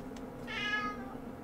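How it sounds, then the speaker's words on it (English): A pet cat lets out one clear, drawn-out meow close by, lasting about half a second in an otherwise quiet indoor room. "You guys hear him? Meow."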